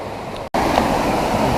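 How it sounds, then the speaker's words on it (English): Mele Cascades waterfall in Vanuatu, running high after rain, gives a steady broadband roar of rushing water, loud and close, with a brief drop-out near the start before the torrent resumes unbroken. "This is the bottom of Mealy Cascades. The bottom. Check it out. It is flowing a lot higher than last time."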